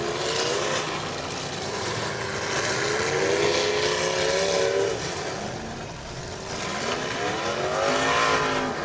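A race car driving on a track, its engine droning loudly and steadily as revs rise and fall through gear changes, close and continuous without voices.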